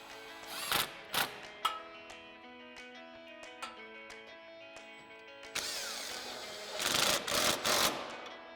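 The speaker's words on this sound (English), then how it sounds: "get these tightened down using our 13mm swivel socket and extension on our impact" An impact wrench drives exhaust bolts home through a 13mm swivel socket and extension on a Challenger Borla S-Type cat-back install, sounding as a few short, close buzzing rattles and then a longer, louder hammering burst.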